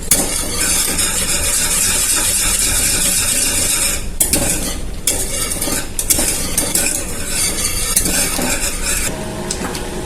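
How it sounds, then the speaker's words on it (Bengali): Kheer filling for patishapta pitha being stirred nonstop in a pan: loud, close, continuous scraping and sizzling with quick clinks of the spoon against the metal, briefly easing off twice before resuming. "কন্টিনিউ নাড়াচাড়া করতে হবে।"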